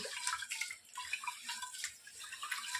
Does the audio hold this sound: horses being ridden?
no